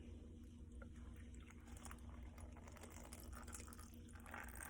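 Pepperoncini brine is poured into a cooking pot for a creamy Italian chicken dish, giving a faint, continuous liquid splashing and trickling over steady kitchen background noise.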